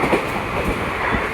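The Lalgola-Kolkata Hazarduari Express rumbles into Bethuadahari station, a dense steady roar of wheels and carriage noise heard from onboard, loud and continuous without speech.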